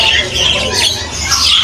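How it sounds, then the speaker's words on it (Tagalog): Lovebirds and other caged birds squawk and chatter densely in a pet shop, a continuous busy chorus of shrill calls with people talking underneath. "maraming ibon dito si Kuya Martin."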